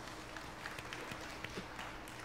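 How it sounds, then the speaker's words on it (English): Audience applause at the PlayStation presentation during Tokyo Game Show 2017, a faint, diffuse patter of many hands clapping at a distance throughout. "Thank wow. you very much for the applause."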